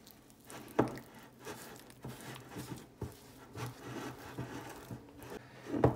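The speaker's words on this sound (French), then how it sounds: "je vais tout mélanger" Speculoos spread worked into a cheesecake mixture in a bowl: soft, close, irregular scraping and squishing strokes with occasional louder knocks of the utensil, quiet overall and without talk.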